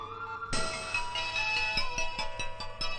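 Mobile phone ringtone starting abruptly and playing a bright repeating melodic pattern with rhythmic pulses, fairly close and clear, no talk over it.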